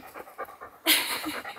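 A Great Pyrenees guard dog panting close by on an alpaca farm, rapid rhythmic breaths that swell louder partway through.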